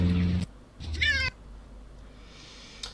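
A wet, unhappy cat meows loudly and close by, one drawn-out cry followed by a second rising, wailing meow, then quiet room tone.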